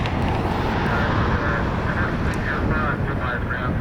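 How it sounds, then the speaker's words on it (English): Boeing 737-800 airliner in Star Alliance livery, its broad engine roar steady and loud throughout, with faint duck-like quacks and a brief higher tone mixed in. "This plane right here is actually in a special livery"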